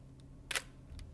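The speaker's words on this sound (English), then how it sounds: "and then I fire the shutter" The shutter of a Pentax ME Super film SLR fires once with a crisp mechanical snap in the middle, close and clear over quiet room tone, with faint small clicks before and after.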